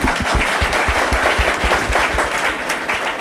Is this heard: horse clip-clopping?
no